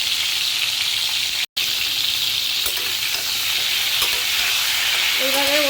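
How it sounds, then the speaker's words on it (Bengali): Slices of pointed gourd (potol) sizzle loudly and continuously in hot oil in a pan, with occasional scrapes from stirring and one brief cut-out in the sound. "এবার আস্তে আস্তে নাড়িয়ে নাড়িয়ে এই পটলগুলোকে ভালো করে ভেজে নেব।"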